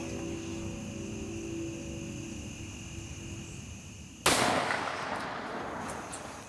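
A single sharp rifle shot cracks out during a youth deer hunt outdoors, a sudden loud burst that rings and decays over a steady hum of insects or wind.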